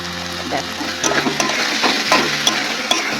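Chicken frying with spices and added salt in a pan makes a close, steady sizzle broken by scraping stirring strokes over a few seconds.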